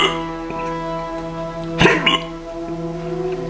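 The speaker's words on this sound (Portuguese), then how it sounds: "isto agora deu soluços." A person who has just eaten a Carolina Reaper pepper hiccups, one sharp hiccup and a smaller second one close together over a steady background hum.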